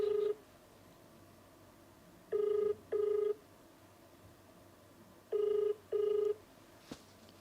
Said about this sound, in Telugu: ఓకే రింగ్ అవుతుంది